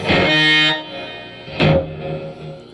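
Distorted electric guitar notes ring out and sustain through a Boss ME-70 multi-effects pedal into a 200-watt amp, with a faint, low-set delay echo trailing after each struck chord.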